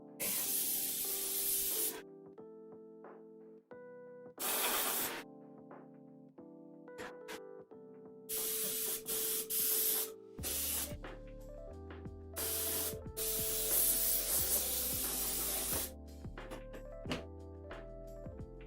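An airbrush sprays paint onto a cosplay armor corset in repeated short hissing bursts separated by pauses, with tonal background sound underneath.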